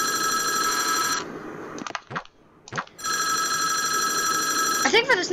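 A telephone rings in the video game Five Nights at Wario's, with two loud bursts of ringing and a stretch of speech between them.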